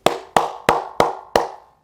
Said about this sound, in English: who I can give a round of applause to while we close this thing out?